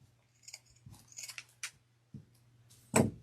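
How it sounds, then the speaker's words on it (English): Scissors snipping through the toe of a fabric sock while crafting a woodland snowman from stacked Dollar Tree pumpkins: several soft close crisp cuts, ending in one louder snip, with no talking. "what I like to do is cut the toe off of the sock"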